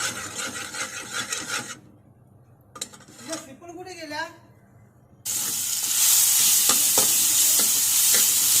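Ground garlic, ginger and chili paste sizzles in hot ghee in a pan: a loud, steady frying hiss that breaks off for a stretch with a brief voice, then returns fiercer and louder.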